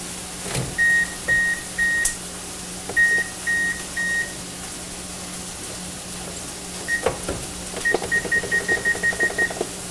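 An oven's electronic control panel gives short, high, evenly spaced beeps as it is set to preheat to 425, in several bursts of three, then a faster run of about eight, with handling clicks and thumps in between.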